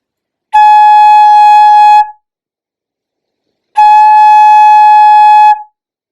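Two sustained tones on a Nuvo Toot flute, each held about a second and a half, separated by a short silence; steady, clear and fairly loud.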